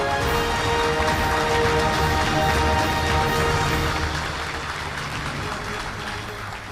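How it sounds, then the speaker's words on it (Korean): Steady, dense applause from a large audience at a South Korean Armed Forces Day ceremony, marking the 77th anniversary, honoring government award recipients. The clapping stays loud and continuous, easing slightly toward the end. "다시 한번 축하와 격려의 박수 보내주시기 바랍니다."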